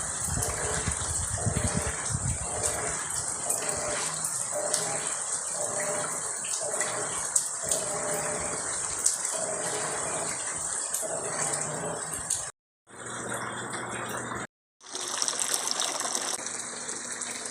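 A repaired washing machine pumps out water in a steady, gushing outflow that continues for most of the time, with rain falling in the background and two brief breaks near the end.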